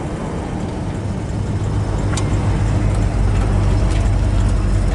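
A 1966 Chevrolet Chevelle SS 396 convertible on a test drive gives a steady, loud low engine rumble mixed with road and wind noise, with no talking.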